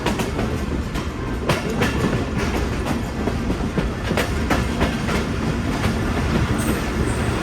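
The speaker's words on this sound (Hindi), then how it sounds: "10:15 बजे ट्रेन हमारी अप्रोच बना रही है" A train runs steadily on rails in heavy fog near a station, a continuous rumble with rhythmic clickety-clack wheel beats and occasional squeal, loud and close with no talk.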